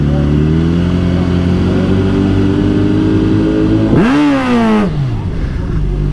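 A 2022 Suzuki Hayabusa with a Brock's lowering kit and front tie-down straps revs loudly at a drag track on a practice launch, holding steady RPM and then sweeping up sharply before settling back, close and dominant throughout.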